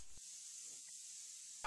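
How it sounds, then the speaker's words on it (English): A two-part spray foam insulation gun hisses steadily as the installer sprays into a soffit beneath a first-floor overhang, a faint continuous airy jet that starts and stops abruptly. "the installer is spraying a two-part foam into the soffit area below the first floor overhang"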